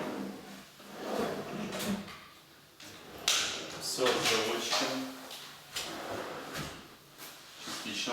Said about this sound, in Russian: Дальше у нас идут ящики, тандемы. Мы сделали еще такой ящик скрытый.